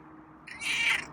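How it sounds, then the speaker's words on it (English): A single short meow from a feral cat rises out of near silence, close and fairly clear, lasting about half a second. "oh, that's a nice meow"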